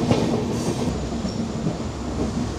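Amaravati Express running near Dudhsagar Falls, a steady close rumble of rolling carriages with faint rhythmic wheel clatter, continuous with no voices.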